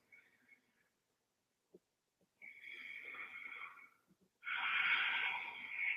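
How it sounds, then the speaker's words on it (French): Ujjayi breaths during a yoga routine come as a faint exhale, then a longer hissing, throaty breath and a louder, stronger one, separated by quiet pauses and small clicks, with no talking. "Profitez de ces moments un peu plus calmes pour reposer votre respiration Ujjayi"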